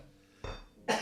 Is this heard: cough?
yes